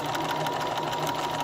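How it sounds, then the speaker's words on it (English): A sewing machine edge stitching a fabric crinkle tag toy for a baby, a close, steady whirring run with a continuous mechanical drone throughout. "By edge stitching, we also have closed up the opening that we had."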